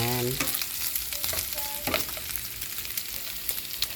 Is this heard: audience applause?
no